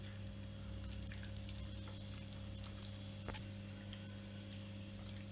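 Sweet wheat-flour and jaggery dosa sizzles quietly in ghee on a hot griddle. A faint, steady frying hiss runs throughout over a low hum, with one small tick partway through and no talk.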